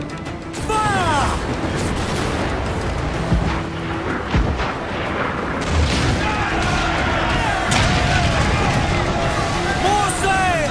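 Ship cannons fire in a naval battle in Assassin's Creed Black Flag, heavy booms and crashes rolling over continuous sea and combat noise while voices shout throughout.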